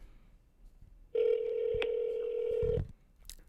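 A single telephone ring tone sounds for about a second and a half, steady and clear, with quiet surroundings before and after.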